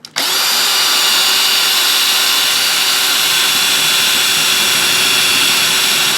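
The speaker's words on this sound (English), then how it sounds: "Actually, I think I'm drilling right above the spindle motor" A power drill whines loudly and continuously as it bores into a mechanical hard drive near the spindle motor, a steady high-pitched grinding drone starting abruptly and holding for several seconds with no talk.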